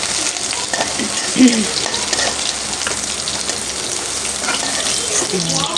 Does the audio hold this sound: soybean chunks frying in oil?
yes